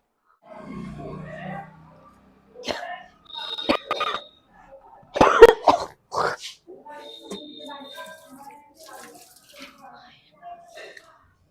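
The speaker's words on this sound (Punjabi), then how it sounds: "ਵੈਸੇ ਹੀ ਥੋੜਾ ਖਾਂਸੀ ਆਈ ਸੀ" A few rough coughs and throat-clearing sounds mixed in with indoor talking and clattering, some splashing or dripping water in the background.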